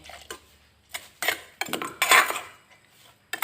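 A ladle dips into a pot of boiled frog soup broth and scoops it out, giving several close metallic clanks and scrapes against the pot with sloshing between them.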